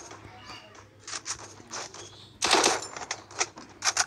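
Rapid bursts of video game gunfire crackle in quick volleys, some shots landing as headshots, with a loud cluster of shots midway and more short bursts near the end over a low steady hum.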